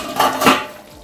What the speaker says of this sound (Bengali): ঢাকাটা খুলে দেখিয়ে নেব